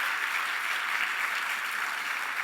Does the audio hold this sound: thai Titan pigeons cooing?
no